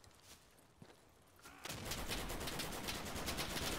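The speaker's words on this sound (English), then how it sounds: "Machine gun." Bursts of machine gun fire in the World War II shooter Day of Infamy, with rapid overlapping shots in a sustained loud stream after a quieter opening.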